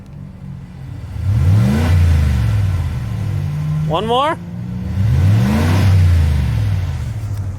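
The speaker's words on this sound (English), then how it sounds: "she's gonna give us a few revs so you guys can hear what it sounds like" A straight-piped 2019 Ram 1500 pickup engine revs twice, swelling loud and deep then settling, with a brief rising whine between and a voice speaking quietly near the middle.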